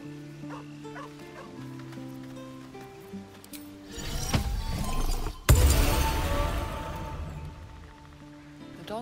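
A dog in the video game Baldur's Gate III whimpers softly and gives a few short barks amid game sounds, followed by a louder burst of noise and a sharp crack.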